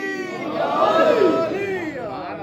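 A packed Muharram majlis crowd roars back in unison to the Nara-e-Haidari slogan, a loud sustained collective shout that swells and then fades over a couple of seconds.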